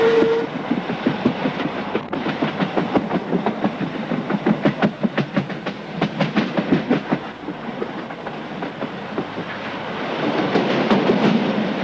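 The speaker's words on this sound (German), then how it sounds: "Der Glacier-Express fährt die Strecke St. Moritz-Zermatt und Zermatt-St. Moritz zwischen Juni und September." The Glacier Express running between St. Moritz and Zermatt, a steady rumble with rhythmic clickety-clack of wheels over rail joints, close and fairly loud, no talking.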